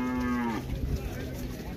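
Cattle moo at a livestock fair in Águas Belas, Pernambuco: one loud, close, drawn-out moo that ends partway through, then a busy crowd murmur and other fair noise.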